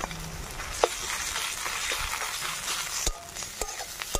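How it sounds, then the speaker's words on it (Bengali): Onion with ginger-garlic paste frying in a pan for an egg and eggplant curry, a steady soft sizzle with a few sharp stirring clicks and scrapes along the way. "পেঁয়াজের সাথে এবার আদা রসুনটা ভালো করে ভেজে নেব"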